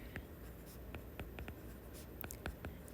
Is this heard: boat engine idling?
no